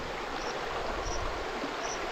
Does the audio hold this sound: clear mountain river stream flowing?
yes